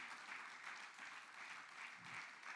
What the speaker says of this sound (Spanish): Dele un aplauso fuerte a nuestro Dios.